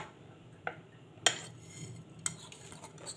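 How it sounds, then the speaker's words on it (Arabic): A spoon stirs a chicken marinade of blended vegetables and spices in a bowl. Three or four faint, sparse clinks rise over a quiet kitchen hum, with no talking. "هقلبهم كده كويس."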